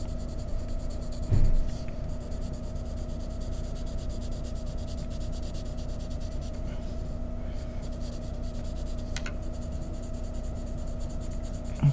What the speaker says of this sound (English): I'm going to do my cross hatching.